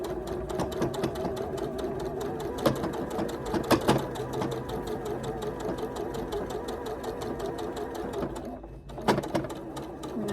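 A sewing machine runs steadily while stitching a thin lace strip onto a shirt, a close, even mechanical whirring with a rapid needle rhythm, pausing briefly near the end before resuming.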